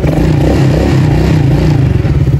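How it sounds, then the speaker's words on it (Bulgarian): An ATV engine runs loud and close after being started, with a continuous throaty rumble and rapid rhythmic pulsing that holds steady throughout and stands alone without voices. "Тук сега запалих АТВ-то, преди малко пристигнахме."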